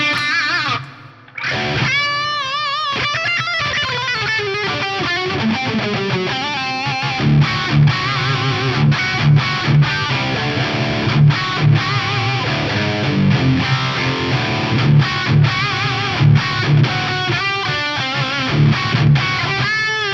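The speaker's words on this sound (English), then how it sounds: "just coat it in some glorious reverb" Heavily distorted electric guitar lead played through a Free the Tone Ambi Space pedal on its hall reverb setting, loud, sustained chords and notes with a big washing tail, no voices.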